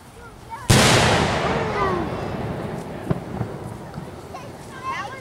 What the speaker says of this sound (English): It just blew up.